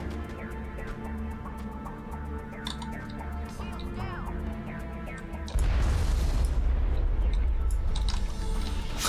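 Heavy explosive blasts from high-explosive sniper and shotgun rounds in a Mass Effect firefight, dense booming impacts layered over continuous game noise, growing louder and fuller in the second half.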